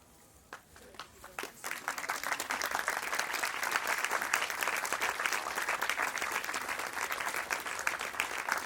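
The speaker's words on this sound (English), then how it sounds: "Let the clap continue." A crowd at a spiritual gathering at the Kumbh Mela breaks into applause after a performance. A few scattered claps quickly swell into dense, steady, sustained clapping that continues to the end.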